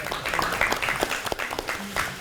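Scattered applause at a Democratic Party leadership meeting, a modest round of clapping with individual claps audible, mixed with faint room voices.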